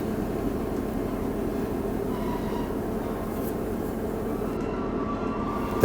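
Diesel passenger train on the Looe Valley branch line in Cornwall rolling along the track, a steady low rumble and rattle of wheels heard from on board, even and unbroken with faint squeals.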